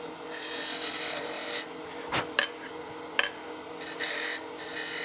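A wooden spinning top turns on a lathe while a tool takes material off the taper, making a steady broadband rushing hiss with two sharp knocks near the middle, close and continuous, with no talking.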